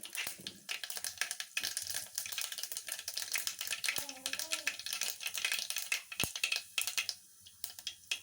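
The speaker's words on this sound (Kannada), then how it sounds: "ಈಗ ಸ್ವಲ್ಪ ಸಾಸಿವೆ ಹಾಕ್ಕೊಳ್ತಾ ಇದ್ದೀನಿ." Mustard seeds crackle and spit in hot oil for tomato sambar, a dense run of sharp popping ticks over a steady sizzle, close, with a brief voice in the background.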